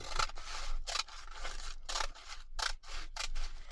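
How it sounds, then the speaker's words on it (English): Scissors snip through fabric along a pressed crease for a junk journal cover, a run of about seven crisp, close cuts in steady rhythm with brief pauses between them and no talking. "then I'm just going to cut along that crease line."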